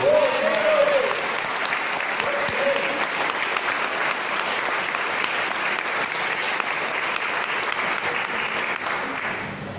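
A church congregation applauds in a dense, steady wash of clapping that fills the room for about ten seconds, with a voice speaking briefly near the start.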